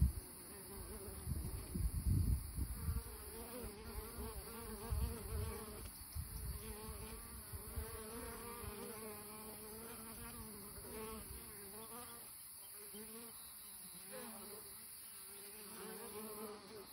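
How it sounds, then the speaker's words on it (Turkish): A colony of bees buzzes inside the hollow of an olive tree in an olive grove, a dense, steady hum with shifting tones and a louder, rougher stretch near the start. "zeytin ağacı kovuğunda"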